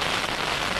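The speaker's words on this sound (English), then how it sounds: "The rain and the wind has just been horrendous." Heavy rain drums on a camping tent in a dense, loud, continuous hiss with wind mixed in, heard close up for a brief moment with no one speaking.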